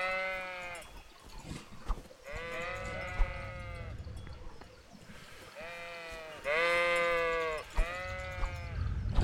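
Sheep bleat repeatedly in the medieval video game Kingdom Come: Deliverance, several long, wavering calls close by, separated by short pauses, with a louder bleat in the middle and quiet ambient noise between them.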